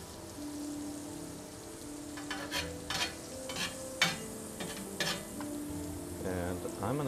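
Eggs fry in a pan with only a little oil left, a steady soft sizzle broken by several sharp scraping and stirring clicks from a utensil, close up.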